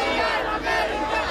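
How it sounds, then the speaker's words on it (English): A crowd of flag-waving demonstrators chants on a city sidewalk at a May Day rally in a largely Latino neighborhood, a dense, loud wash of many voices shouting together. "people waving flags and chanting from the safety of the sidewalk"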